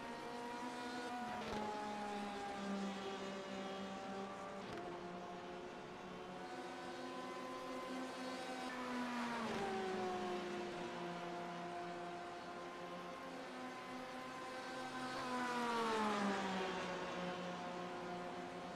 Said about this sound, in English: See a Porsche and a couple Corvettes.